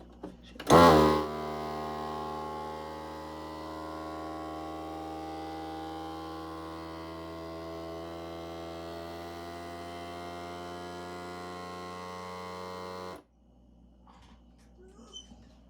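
After a brief rustle, a jar vacuum sealer motor drones steadily with a strong low hum for about twelve seconds, then cuts off abruptly.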